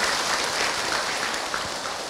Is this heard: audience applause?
yes